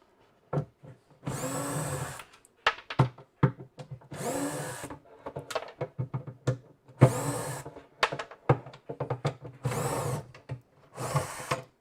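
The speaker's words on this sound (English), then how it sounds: "I'm going to take all of these screws off" A cordless drill or driver backs screws out of a box on a workbench, whirring in short bursts of a second or so with clicks and handling knocks between them, close and fairly loud.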